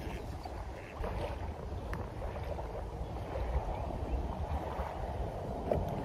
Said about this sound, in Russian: Прям разогнался ветер.